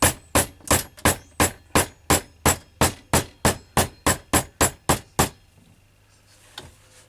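Metal struck with a hammer on an anvil while joining links for a six-foot walking lead: about fifteen bright, ringing blows at an even, brisk rhythm, loud and close, then a sudden stop into near-silence.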